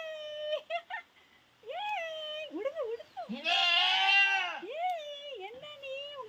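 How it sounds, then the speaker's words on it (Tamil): A goat and a newborn kid bleating on a goat farm after a birth, with repeated wavering high-pitched cries, one long loud bleat in the middle, and a person talking between the calls. "ஆட்டுக்குட்டி எப்படி கத்துச்சு?"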